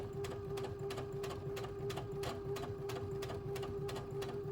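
A sewing machine closes a curved seam on a child's cloth face mask, its needle tapping in a fast, regular rhythm over a steady motor hum, quiet and unbroken throughout.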